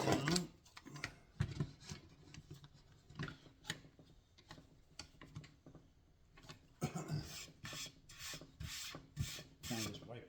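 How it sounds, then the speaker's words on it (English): A wooden cutting board is wiped down by hand, producing a run of soft, uneven rubbing and scuffing strokes close by, with brief pauses between bursts. "And just wipe off the surface."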